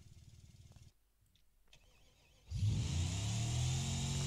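A goofy pickup truck in the BeamNG driving game cranks briefly, then its engine roars to life and revs hard and loud with spinning wheels, alone without talk.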